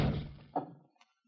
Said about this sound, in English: Come in and shut the door.